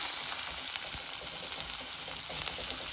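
Onion thrown into hot oil with mustard seeds for dhal sizzles and crackles steadily, a dense close hiss with scattered sharp pops throughout.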